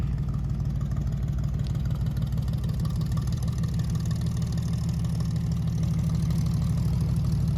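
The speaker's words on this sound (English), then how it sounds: "It's got a great exhaust note too." A belly tanker jet-style car's engine idles with a steady low exhaust rumble, even and continuous, close by.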